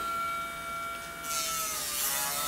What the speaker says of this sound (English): And then I take my rotary tool